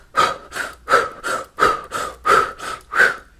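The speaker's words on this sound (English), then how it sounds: "I love breath of fire to activate, to really call in, to awaken that Kundalini life force energy" Rapid rhythmic breath of fire breathwork for Kundalini practice: about nine forceful nasal exhalations in a steady pulse, close and clear, with no talking.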